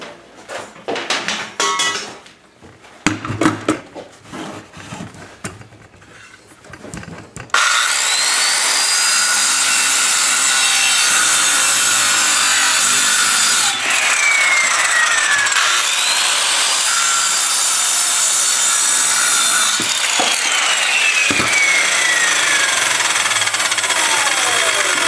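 A hand saw trims wood pieces with a few short, scattered rasping strokes, then settles into a loud, continuous, close-up sawing that runs to the end.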